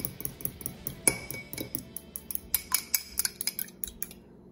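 A raw egg is beaten with a metal utensil in a bowl holding lemon juice and salt for a Chicken 65 marinade, giving quick, steady clinks and scrapes against the bowl, close and clear, with no voices.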